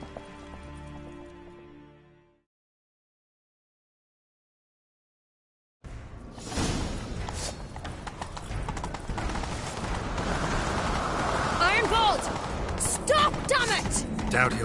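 Horse hoofbeats from a video game on PS4 chasing down a target on horseback, a steady loud clatter with rustle and effects that starts after a brief silence and keeps going to the end.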